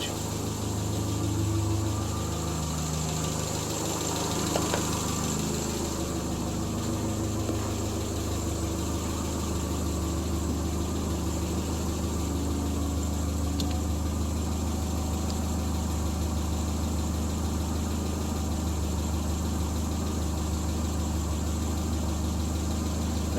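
A Triumph Spitfire idles steadily after its first start-up in months, following brake line and exhaust repairs; a continuous, even engine rumble runs close by without talk.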